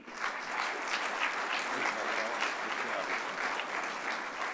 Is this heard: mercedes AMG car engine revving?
no